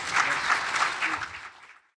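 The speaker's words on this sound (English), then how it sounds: "can you guys clap because that's really important" An audience at a New Jersey political gathering breaks into a short burst of clapping, dense and lively at first, then thinning and fading out over about two seconds.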